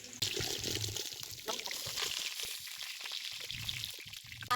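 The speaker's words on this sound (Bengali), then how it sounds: "চালটাকে দিয়ে দিচ্ছি" Soaked rice is tipped into a pot of water seasoned with bay leaf and garam masala for village-style chicken biryani, giving a close, splashy pour and trickling slosh that settles into a softer watery swirl.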